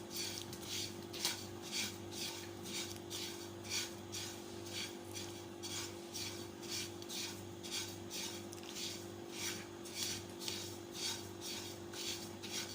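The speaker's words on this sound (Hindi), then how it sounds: "चमचा चलाते रहना है" Spoon stirring roasted sesame seeds or coconut in a pan for chikki patti, a continuous scraping rasp with regular metallic strokes over a steady hum from the stove, close and even throughout.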